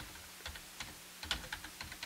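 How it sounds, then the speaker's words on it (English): Faint, steady clacking of fingers typing on a computer keyboard, a quick irregular run of keystrokes heard alone at low volume. "clickety clacking typing"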